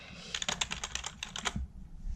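Keys clatter on an HP computer keyboard beside an old Compaq Presario desktop, a quick close burst of crisp clicks lasting about a second and a half before falling quiet, with no voice.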